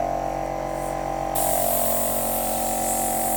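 An Arism Mini airbrush hisses into a bright, loud steady wide spray partway through, over a constant mechanical hum from the compressor.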